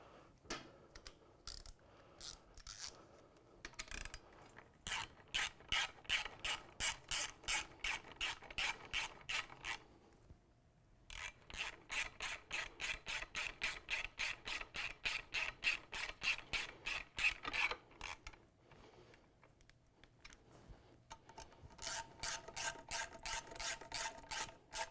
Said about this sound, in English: we want to then go back with a hand tool and just get everything nice and snug.